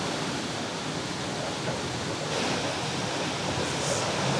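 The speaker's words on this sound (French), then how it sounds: "c'est la force de l'eau qui fait tourner la roue en fer et qui fait tourner la meule" River water rushing past an iron mill wheel that turns a millstone: a steady, broadband roar of flowing water, constant and fairly loud, with no voices.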